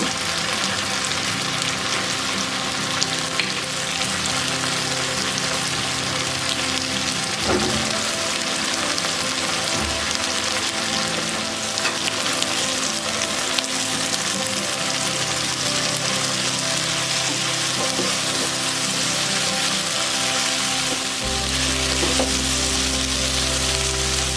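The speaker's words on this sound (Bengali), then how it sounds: "এর মধ্যে আমি রসুনটা ভেজে নেব" Garlic frying in about a tablespoon of oil for chicken vegetable fried rice gives a steady, close sizzle throughout, with a low hum and a few faint knocks underneath and no talking.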